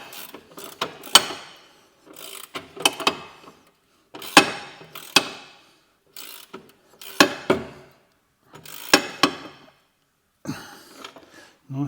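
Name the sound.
ratchet tightening nut on Vauxhall Corsa wishbone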